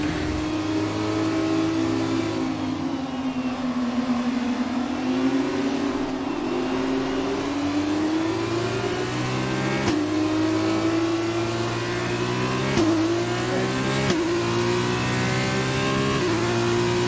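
A Formula 1 race car in F1 2020 held at full throttle, its high engine whine steadily rising and falling through gear changes, loud and continuous with no talk.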